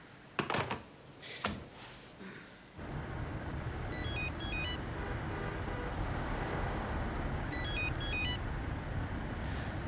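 A telephone rings twice in a warbling electronic trill, each ring lasting about a second against a steady low hum of engine-like noise, after a few sharp knocks at the start.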